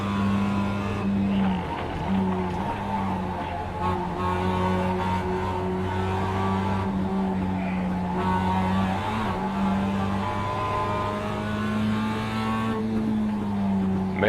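Race cars in a sim racing game during a 20-lap race, a steady loud engine drone with shifting pitch held throughout, a pack of cars close together with occasional tire squeal.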